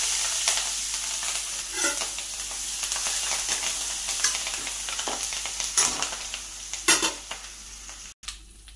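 Curry leaves crackling in a tempering of oil with mustard seeds, cumin, dried red chillies and turmeric, a steady close sizzle with sharp pops and occasional stirring scrapes, no voices.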